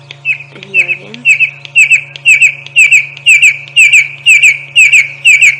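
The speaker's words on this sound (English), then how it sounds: "you will never ever forget what a red-crested corehorn call sounds like" Red-crested korhaan calling in the bush at dawn, a loud, close series of sharp, rhythmic clicking whistles repeated steadily, building in pace over a low constant hum, with a brief low voice at the start.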